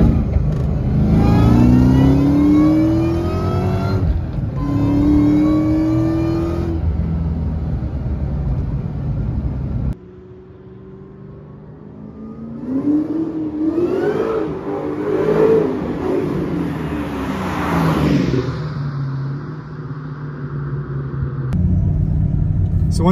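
Supercharged Terminator Cobra with a 2.9 upper pulley, catted SLP X-pipe and Magnaflow exhaust revs hard on a dyno, rising in repeated loud sweeps with a dip in the middle, while people talk underneath.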